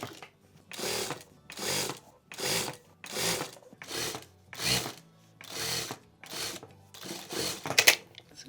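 A sewing machine stitches a seam on a homemade hoodie, running in short separate bursts of fast mechanical chatter with brief pauses between them, steady and close.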